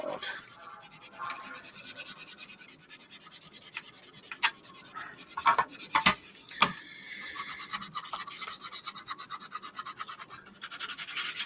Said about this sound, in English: we will make no apologies for the noise of sanding during today's live stream